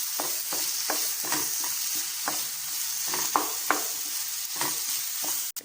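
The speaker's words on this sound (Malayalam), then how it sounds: "ഇനി നമുക്കിതിലേക്ക് നമ്മൾ നേരത്തെ അരച്ച് വെച്ചിട്ടുള്ള ചിക്കൻ ചേർത്ത് കൊടുക്കാം" Ground chicken is stirred into a sizzling squid filling in a pan, with repeated rhythmic scraping strokes of a spoon over a constant close frying hiss.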